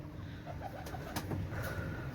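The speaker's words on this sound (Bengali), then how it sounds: "অনেক সুন্দর কবুতর" Pakistani pigeons kept for sale coo softly amid a busy, noisy background, a few low murmuring calls that sit faint under the general din.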